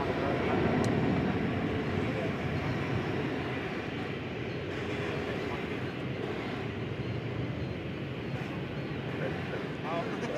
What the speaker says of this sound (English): I'm a big fan of the 757. We would expect a very snappy takeoff.